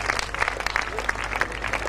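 Audience clapping at a Hindi kavi sammelan poetry event in Seawoods, a steady round of dense, near applause.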